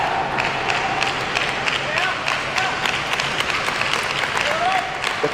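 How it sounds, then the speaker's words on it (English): A large stadium crowd at a table tennis match between Wang Chuqin and Tomokazu Harimoto at the Kalinga Stadium claps steadily and loudly, the dense applause echoing across the hall with crowd noise and calls mixed in. "The claps are resounding. You can hear them echo across the stadium"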